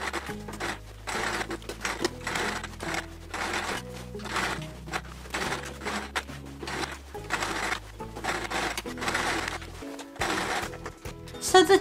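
Sewing machine stitching with white thread around appliqué rose and leaf shapes on a Peter Rabbit patchwork quilt, a steady close mechanical chatter in repeated bursts with brief pauses between runs.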